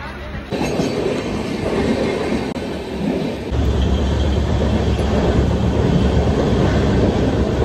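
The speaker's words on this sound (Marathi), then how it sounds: "गाईस ही एसी ट्रेन पहिली बार बघितली मी मुंबईला येऊन" A Mumbai Western Line train runs loudly and continuously, with a steady rattling rumble that grows heavier partway through, like riding inside a moving carriage.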